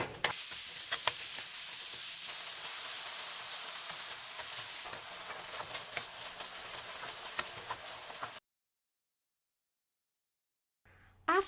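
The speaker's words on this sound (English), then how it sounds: "So brown the ground pork meat first." Ground pork browns in a pan with a steady, fairly close sizzle and light scraping for about eight seconds, then cuts to silence before a brief noise at the very end.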